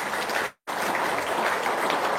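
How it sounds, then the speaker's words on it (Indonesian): Audience at a talk on wealth and spiritual practice applauds in a steady, dense roar of clapping, broken by a brief near-silent cut before resuming just as loud. "Tepuk tangan dulu dong."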